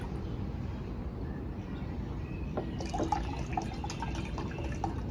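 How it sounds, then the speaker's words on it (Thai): Water pours into a glass in a steady, close splashing stream, with rising liquid gurgles and small drips joining partway through. "เทไปพอประมาณนะคะ กะเอาค่ะเด็ก ๆประมาณสักเกือบครึ่งแก้วก็ได้นะคะ"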